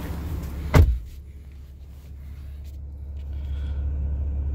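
A 2019 Ram 2500 Laramie truck door shuts with a single close thud, followed by a low steady cabin rumble.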